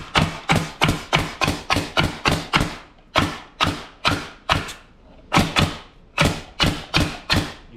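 A Metabo HPT NV45AB2 nailer fires nails one after another into old pallet wood. Sharp, loud thumps come in quick steady bursts of about sixteen shots with a short pause midway, each ringing briefly before the next.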